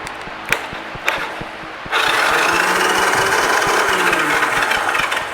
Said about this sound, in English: Jump the starter solenoid